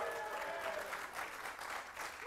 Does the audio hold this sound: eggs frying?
no